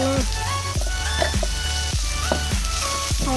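Food fries in a pan with a steady, close, loud sizzle. Rhythmic stirring strokes with a spatula recur roughly every half second, and there is no talking.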